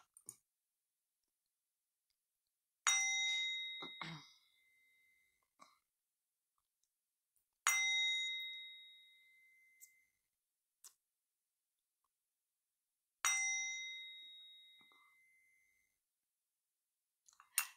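Tibetan singing bowl struck three times, each strike a bright, ringing metallic tone that sustains and slowly decays over several seconds, evenly spaced in a quiet room, with faint clicks in between.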